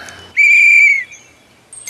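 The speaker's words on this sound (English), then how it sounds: "I'm still learning to whistle" A loud, near mouth whistle holds one clear sustained tone for about half a second and slides slightly at the end, followed by quieter fainter whistled notes in a brief children's-program setting.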